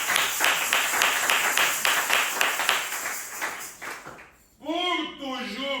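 A congregation at a prayer vigil claps in a steady, fast rhythm for about four seconds. The clapping fades, and a voice speaks after a short gap.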